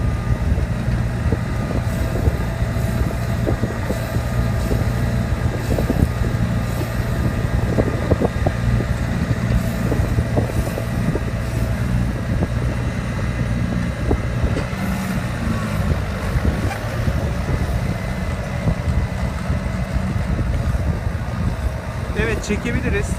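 A John Deere 5095 tractor pulls a plow across a field on the Söke plain, its engine droning steadily and loudly throughout, mixed with wind noise on the microphone.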